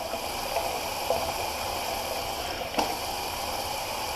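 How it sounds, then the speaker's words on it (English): Tap water runs in a steady, close, moderately loud stream while alum is rinsed off a freshly shaved face, with a couple of faint splashes and no talking. "I'm actually just going to rinse that off."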